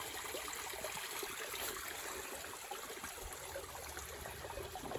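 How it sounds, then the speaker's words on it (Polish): A small garden stream running low on water trickles softly and steadily, a faint continuous wash of flowing water with no voices. "W strumieniu coraz mniej wody."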